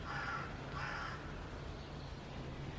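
Crows cawing outdoors, a couple of bursts of harsh calls in the first second over a steady background hum, then fading into low ambient noise.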